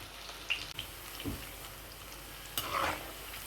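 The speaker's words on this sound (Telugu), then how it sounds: "ఇలా తిప్పుతూ వేయించుకోండి" Pakodi fritters frying in oil and being turned with a spoon: a soft, constant sizzle with a few scraping and clinking stir sounds on top, close and fairly quiet, with no talking.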